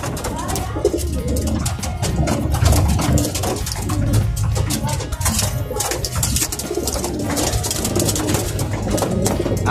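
Pigeons coo steadily amid a busy, cluttered background of flapping and rustling, with constant low murmuring throughout.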